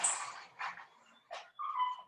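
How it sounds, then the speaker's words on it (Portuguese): Female dogs whimper and cry indoors in a few short, high, plaintive bursts separated by brief pauses, fairly faint and alone. "Agora as cachorras estão chorando"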